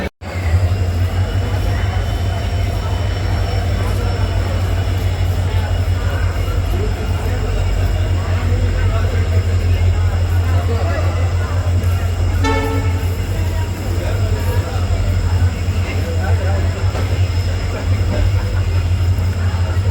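An Indian Railways WDP4D diesel locomotive hauls the 54041 Kurukshetra–Jind passenger train at Kurukshetra Junction, with a steady loud low engine drone throughout and a brief horn-like tone near the middle, under station ambience.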